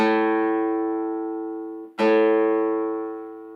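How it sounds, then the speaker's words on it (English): A single low guitar note, the open fifth string A, rings out and slowly decays, then is plucked again and sustains clearly on its own. "Then 5th string is A."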